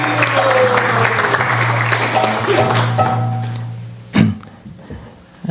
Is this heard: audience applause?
yes